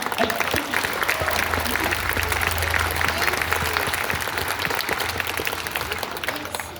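Audience applause after a concert band performance at the Papillion Area Concert Band show, a dense steady clapping that fills the whole stretch with an even crowd texture and tapers only slightly toward the end.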